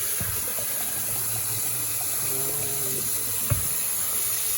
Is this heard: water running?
yes